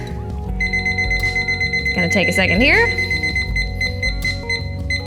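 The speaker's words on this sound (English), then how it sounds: "I'm going to set my 30-minute timer" A kitchen timer is set to 30 minutes, giving off a steady run of high electronic beeps that carries on under a person talking.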